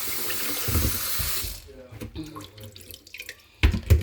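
Yellow mushrooms are rinsed under running tap water in a sink, a steady loud splash at first, then scattered drips and handling splashes before a final strong burst of water.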